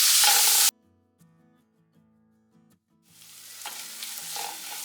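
Onions and a large tomato sauté in a pan for a mutton roast, a loud sizzle that cuts off abruptly, leaving a quiet humming gap, then the frying hiss returns and builds with stirring scrapes.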